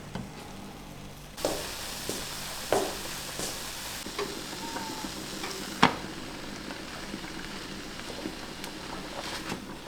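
A filling mixture with carrot chunks cooking in a pan gives a soft, steady sizzle, broken by occasional light clicks and scrapes of stirring.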